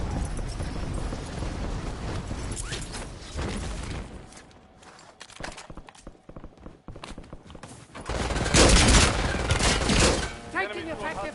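Heavy gunfire in Call of Duty Warzone comes in rapid bursts that fade and then return loud near the end, mixed with in-game voices and other battle noise.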